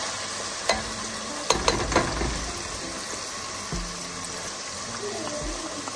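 A spoon stirs tomato paste into a fish curry masala for silver hake in a pan, giving a close, low sizzle and a few sharp scraping knocks against the pan, with a brief voice at moments.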